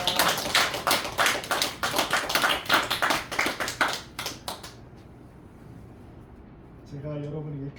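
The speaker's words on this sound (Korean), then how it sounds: "2024년 함께 하신 하나님 아주 우리 영광의 박수 올리겠습니다" A church congregation claps in a dense, loud burst of sharp hand strikes that thins out and stops, leaving quiet before a voice begins speaking.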